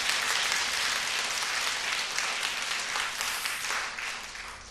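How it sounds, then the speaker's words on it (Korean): A church congregation at a Sunday morning worship service claps in encouragement. The dense, sustained applause fills the room evenly and tapers slightly near the end, with no talking over it. "우리 한번 격려의 박수 한번 해주실까요?"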